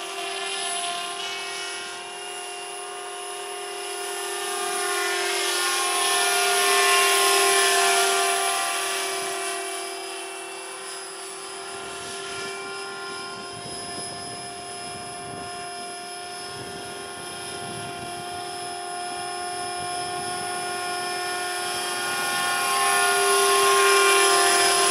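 A 500-size RC model helicopter built as an Apache Longbow AH-64 flies nearby with a steady, whining rotor and motor drone that swells and eases as it moves, accompanied by wind noise.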